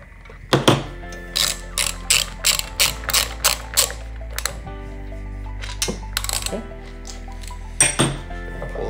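Ratchet wrench loosening a wheel nut on a reel mower, a rapid run of crisp metallic clicks in short bursts with pauses between, close and clear.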